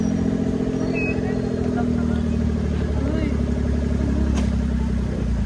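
A motorcycle engine runs steadily close by with a mid-pitched drone and light clatter, continuous and fairly loud, while people talk over it.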